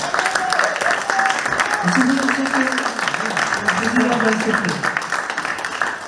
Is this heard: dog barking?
no